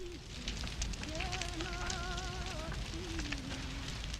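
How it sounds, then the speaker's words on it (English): A fire crackles steadily in a scene from a Tarkovsky film, with dense snapping pops spread over a constant hiss and a faint wavering tone drifting above it. "or the crackling of fire."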